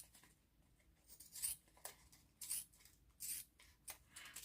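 Dull sewing scissors snip through fabric for a sequined quilt page, a series of close, crisp cutting strokes in an irregular rhythm with short pauses between.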